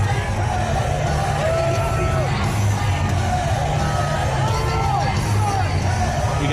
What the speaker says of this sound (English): Listen to that crowd, man.